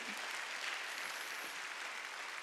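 A church congregation at a Sunday worship service claps in a brief, steady burst of many hands, heard from a short distance and continuing without break for a couple of seconds.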